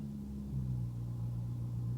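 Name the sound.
McLaren MP4-12C engine rumbling as it moves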